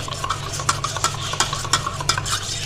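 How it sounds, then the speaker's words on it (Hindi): A dessert mixture for lab-e-shireen being stirred briskly in a bowl to break up lumps, with rhythmic close scraping strokes about three per second, clear and alone. "अब इसको अच्छे से मिक्स कर लेंगे ताकि कोई लम्स वगैरह ना रहे"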